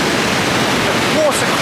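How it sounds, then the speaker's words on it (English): Rhine Falls in Switzerland roaring as water crashes down the rapids: a steady, loud, broadband rush that fills the whole clip, with a faint whistle-like tone near the end. "It is thundering in terms of the sound. The water crashing down the rapids."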